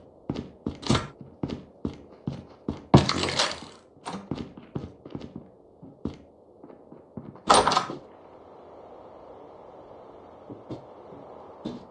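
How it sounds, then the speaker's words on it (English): Magazine reload in the shooter game COD Mobile: a rapid series of close mechanical clicks and thunks, with two sharper loud clacks, ending in a quiet hum. "Changing mag."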